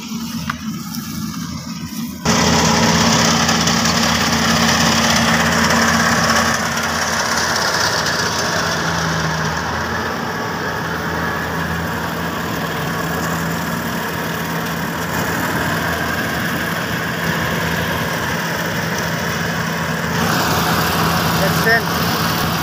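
A rice harvesting machine cutting paddy in the field, its engine droning loud and steady with a constant low rumble after a brief quieter start.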